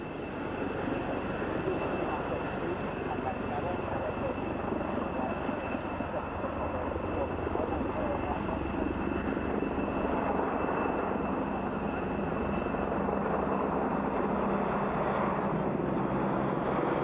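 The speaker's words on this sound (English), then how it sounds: "the Hercules is joined by an MH-53 helicopter" An MC-130 Hercules and an MH-53 helicopter flying together at a 1997 British airshow, a loud, steady engine and rotor roar that fills the air throughout without letting up.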